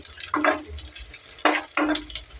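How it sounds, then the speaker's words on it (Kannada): Onions fry in a pan at home, with two or three bursts of scraping stirring and sizzle set against quiet gaps, close and fairly loud. "ಕೆಂಪು ಆಗುತ್ತನ ಈರುಳ್ಳಿ ಫ್ರೈ ಮಾಡ್ಕೊಳ್ಳ್ರಿ"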